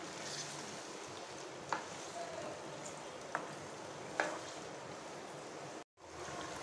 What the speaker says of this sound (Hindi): और इसको एक दो मिनट फ्राई करेंगे अच्छे से कि इसका कलर चेंज हो जाए।